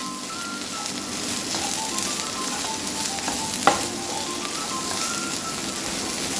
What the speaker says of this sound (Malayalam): ഇത് ഫ്രൈ ആവുമൊന്നും വേണ്ട ചെറുതായിട്ടൊന്ന് മൂപ്പിച്ചെടുത്താൽ മതി